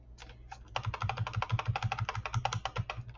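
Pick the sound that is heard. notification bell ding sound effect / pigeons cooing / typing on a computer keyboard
typing on a computer keyboard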